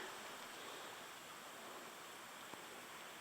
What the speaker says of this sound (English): There is a small waterfall up there.